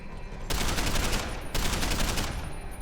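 Gunfire in Deus Ex: Human Revolution, two loud sustained bursts of rapid automatic shots close up, each lasting about a second, with no talking over them.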